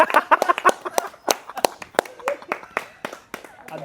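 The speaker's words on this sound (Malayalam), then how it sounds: "കൈയടിക്ക്." Several people clap their hands in an uneven burst of sharp, close claps lasting a few seconds, celebrating the delivery of a newly bought vehicle worth about 8 lakh, with faint voices underneath.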